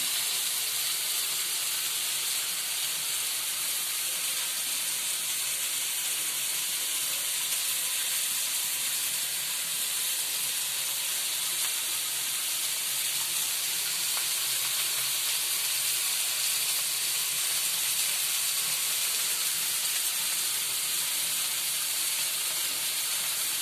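Fish frying in a pan gives a steady, dense hiss and sizzle that holds at an even level throughout, close and continuous, with no voices.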